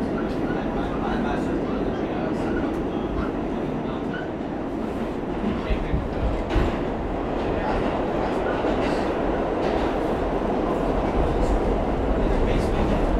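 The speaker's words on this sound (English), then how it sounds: "Now the subway's going under the East River to Queens." A New York subway train rumbles under the East River toward Queens, a steady loud roar of wheels and car noise with faint rattles throughout.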